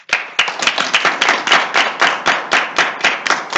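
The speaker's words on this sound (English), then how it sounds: "Let's clap." An audience at a sermon claps in a brisk, rhythmic burst. The sharp claps come close and loud at a steady, quick pace, and no voice is heard.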